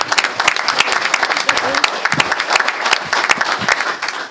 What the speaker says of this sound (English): another round of applause for them as well